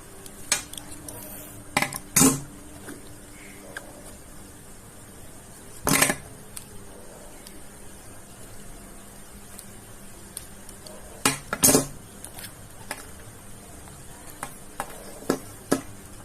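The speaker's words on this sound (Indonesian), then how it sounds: "pertama kita kupas atau potong kabel UTP nya" A UTP network cable's jacket is cut and stripped during crimping prep, giving a few sharp, close clicks and snips scattered among quiet stretches, with no talk.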